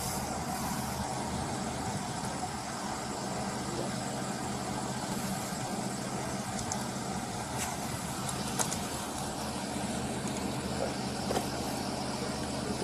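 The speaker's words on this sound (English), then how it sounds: "He drives by in the truck and then gets out." A truck rolls past in recorded footage, a steady low engine rumble with road hiss and faint background noise that holds for several seconds, moderately distant with no talk.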